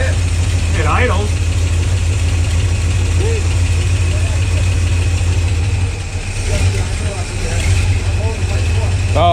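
A 1969 Dodge Dart V8, freshly fitted with a new carburetor and header gasket, idles steadily with a loud, even low rumble close by while voices talk over it.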